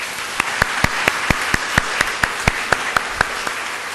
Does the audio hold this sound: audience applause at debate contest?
yes